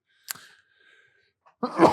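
A single short, sharp sneeze bursts out near the start, followed by a quiet pause. A voice then begins speaking at the end.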